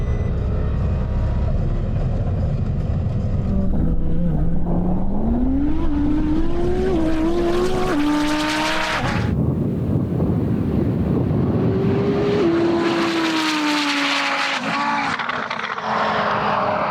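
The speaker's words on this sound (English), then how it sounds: "George, in his Precision Racing twin-turbo Audi R8, returned to Cootamundra Airport for another crack at the title." A Precision Racing twin-turbo Audi R8 drag races down the runway at Cootamundra Airport, its engine note climbing through loud, rising gear pulls with brief shift breaks, heavy wind buffeting over the run.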